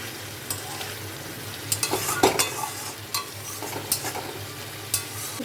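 Soaked katla fish goes into a hot pan and is stirred, making steady sizzling with repeated sharp scrapes and clinks of a spatula against the pan, close up and without speech.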